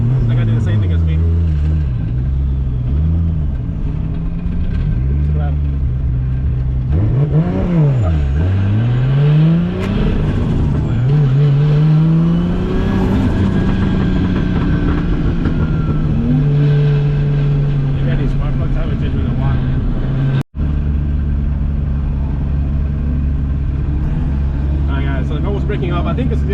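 A Toyota 2JZ-powered drift car on a track, its loud engine droning and revving continuously up close throughout, pitch sweeping up and down, with a brief cutout near the end.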